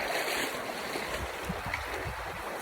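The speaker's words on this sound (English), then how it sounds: "I wanted to show you the river. So we're walking through it." River water rushes and splashes continuously as a Can-Am Defender 6X6 vehicle moves through it, a dense broadband wash with occasional low thumps, close and steady.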